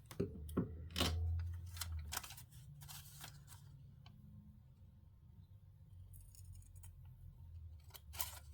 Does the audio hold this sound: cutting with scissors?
yes